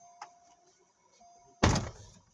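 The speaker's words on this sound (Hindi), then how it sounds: "दरवाजा बंद कर, दरवाजा बंद करो सारे।" A Toyota car door slams shut once with a loud, close thud, after a faint earlier click and a quiet stretch of low background hum.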